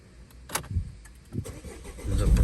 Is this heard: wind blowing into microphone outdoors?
no